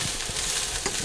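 Vegetables and tempeh fry in a pan, giving a brief, close, continuous sizzle.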